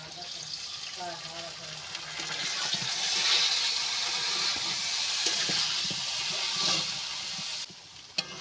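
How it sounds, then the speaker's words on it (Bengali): Water is poured into a pot of cooking hog plum chutney, producing a rising, steady rushing hiss for several seconds before it cuts off. "আমি একটু জল দিয়ে দেবো।"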